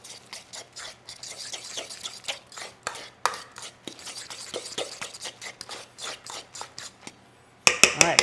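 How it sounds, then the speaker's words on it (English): Quick irregular clinks and scrapes of a utensil stirring an egg mixture with soy sauce and sesame seeds in a bowl, close and fairly quiet, ending in a brighter clatter. "I'm going to give it a stir."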